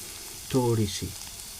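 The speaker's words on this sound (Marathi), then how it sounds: "आता ह्याच्यामध्ये मी टाकतो लसूण पेस्ट" Garlic paste hits hot oil in a pan with a sudden loud sizzle that swells for a moment and settles into a softer frying hiss, heard close with no voices over it.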